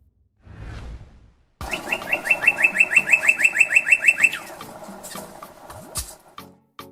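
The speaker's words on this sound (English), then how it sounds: "Northern Cardinal." A Northern Cardinal sings a fast series of about a dozen clear, rising whistled notes in a tight rhythmic run, preceded by a shorter call and followed by a few scattered chirps, loud and close against quiet surroundings.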